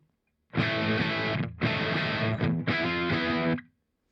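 Three chunky bursts of heavily distorted electric guitar through a Himmelstrutz Fetto Maximus fuzz pedal, fuzzy and saturated, each ringing about a second with brief gaps between.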